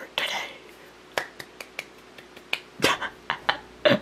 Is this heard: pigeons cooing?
no